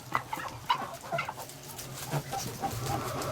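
A chicken clucks in a farmyard where Muscovy ducks are kept, a few short, moderately close calls rising out of steady outdoor background noise, with no talking.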